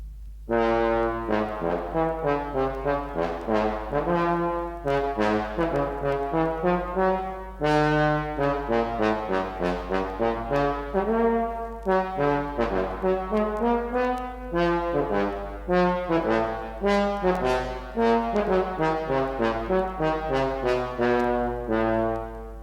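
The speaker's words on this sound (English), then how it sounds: "Here is a characteristic piece for bass trombone from the Overture 1812." A bass trombone plays a stately, flowing melody from the 1812 Overture with sustained low notes, loud and continuous with no talking.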